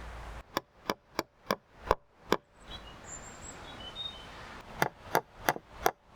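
Small tacks hammered into the canvas of a cloth-covered wood shed: two runs of sharp, evenly spaced hammer blows, six then five, with a quieter pause between them and faint outdoor birdsong in the background.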